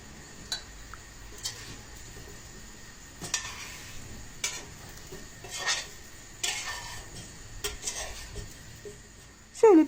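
Meat and tomato paste with spices being stirred in a pot: a spoon scrapes and clinks against the metal in irregular knocks over a faint sizzle.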